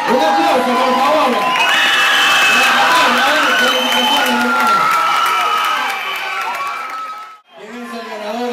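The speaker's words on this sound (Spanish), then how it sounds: "¡Un aplauso, por favor!" Crowd at a talent show final cheering and shouting loudly, with whoops and applause mixed into a dense roar that drops off briefly near the end before resuming.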